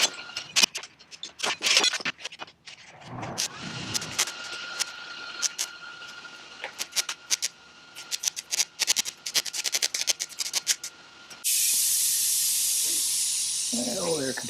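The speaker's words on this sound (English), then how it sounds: "Oh, air compressor bleeding off." An air compressor in a workshop bleeds off air with a loud, steady rushing hiss that starts abruptly near the end and runs without a break, after a stretch of scattered clicks, clatter and rattling.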